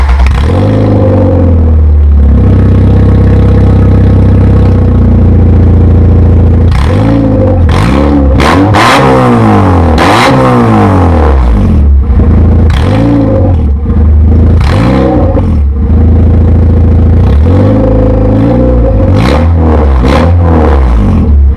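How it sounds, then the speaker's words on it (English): A loud car exhaust with the cat-back section removed revs repeatedly, rising and falling in sharp bursts between steady rumbling idle, very close and harsh. "I want to see how loud my exhaust is"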